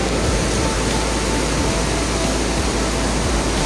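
Hot spring water pours steadily at Pancuran 13 in Guci after a flood, a dense, constant rushing hiss that fills the space without pause or talk.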